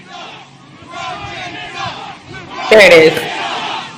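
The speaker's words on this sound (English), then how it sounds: "What a crowd. What a crowd." A roaring NFL stadium crowd swells with cheers and shouts, peaking in a loud burst near the end, while someone speaks briefly over the noise.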